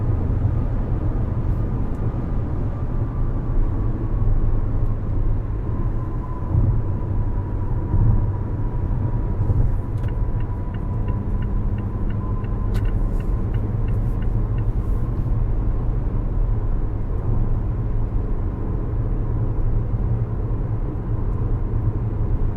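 From inside a 2019 Mazda CX-5 Grand Touring Reserve on the road, a loud, continuous low rumble of engine and tires holds steady through a cornering stretch. Faint ticking is heard now and then, and no one speaks.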